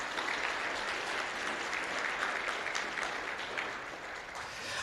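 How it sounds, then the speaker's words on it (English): Steady, dense applause from a conference audience honoring the reviewing committee chairs, sustained at even loudness throughout with no voices rising above it. "let's give a big round of applause to the reviewing committee chairs of Uppsala"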